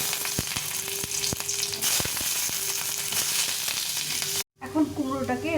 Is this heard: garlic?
yes